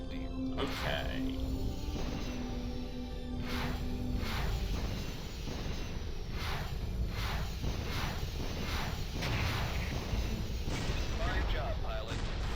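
MX-50 homing missiles launched and striking a drone in the space combat game FreeSpace, a string of sharp whooshing blasts and booms over a constant engine hum, with speech in places.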